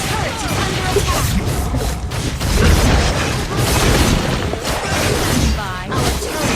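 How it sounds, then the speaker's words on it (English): A turret is destroyed in a multiplayer battle video game, with a dense, loud crash and booming impact amid continuous busy game effects and background noise. "Our turret has been destroyed."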